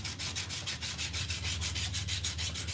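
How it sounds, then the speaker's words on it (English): Sandpaper rubbed by hand back and forth in a steady, rapid rhythm of repeated strokes, close and continuous with no talking. "So you get your sandpaper, clean it up."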